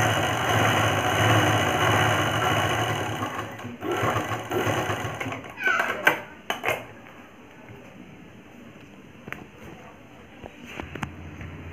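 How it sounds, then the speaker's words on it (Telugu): A sewing machine stitches around a blouse neckline, whirring steadily and close for several seconds. It then stops into scattered clicks and taps of handling the fabric, with a voice faintly present. "ఇప్పుడు ఏం చేద్దామంటే కదలకుండా ఒక స్టిచ్ వేసుకుని వచ్చేస్తాను"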